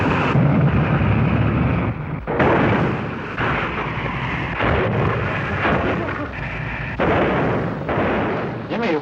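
A model rocket launch from the era of the hobbyist rocket craze gives a loud, sustained roaring rush that holds for seconds, broken by several sharp bursts and short dips, with no voices over it.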